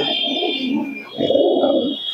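Pigeons coo in a loft of Andhra tournament birds, their low throaty rolls swelling close and loud, over a steady high background whine.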